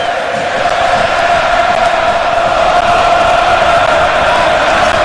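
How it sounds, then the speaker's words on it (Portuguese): Internacional supporters singing in the Beira-Rio stadium in Porto Alegre before the 2009 Copa do Brasil final against Corinthians, a dense, loud, continuous crowd chant filling the stands without pause. "A torcida do Internacional não para de cantar, a torcida do Corinthians não para de pular."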